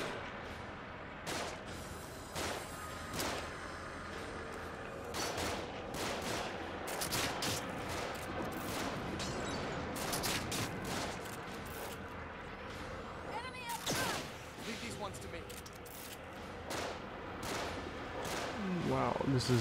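Repeated gunfire in The Evil Within, a survival horror game, sharp broadband shots scattered across the clip amid dense game noise and rumble, with a player talking over the action.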